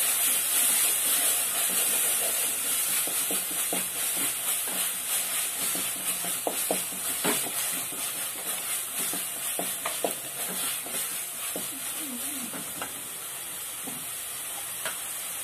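Ginger garlic paste and tomatoes sizzle steadily in a hot pan for a crab curry, with a loud continuous hiss and scattered scraping stir clicks throughout, no talking.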